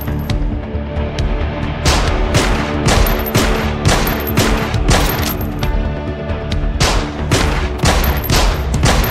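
Rapid, dense gunfire from the zombie survival shooter Yet Another Zombie Survivors: loud, overlapping bursts of shots that rattle on almost without pause, with brief lulls between volleys.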